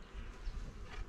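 Honey bees buzzing around a queen-rearing mating hive, a steady low drone close by, continuous and fairly quiet without talk.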